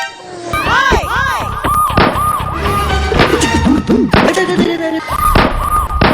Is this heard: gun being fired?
yes